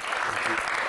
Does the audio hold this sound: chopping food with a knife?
no